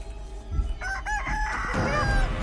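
A rooster in the video game Chicken Feet crows loudly in a rising cock-a-doodle-doo, followed by more crowing and clucking over a rumbling background.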